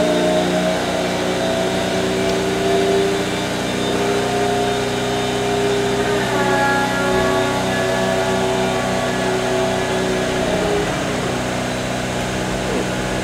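Daihatsu Copen convertible roof mechanism opening the rear deck, a steady electric motor whir and hydraulic hum running continuously over an idling engine, close and moderately loud with no talk.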